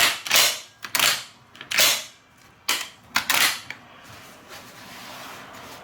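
Hatfield SAS 20 gauge semi-automatic shotgun fired at clays, a string of about six sharp cracks in irregular succession, several close together, each with a short decaying tail, fairly loud with no talking.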